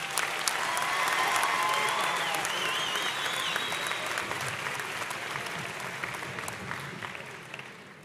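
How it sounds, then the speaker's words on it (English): Loud, sustained applause from a large crowd for graduates at a graduation ceremony, steady throughout and slowly fading toward the end, with faint cheers mixed in. "Let's have a great big round of applause for those graduates."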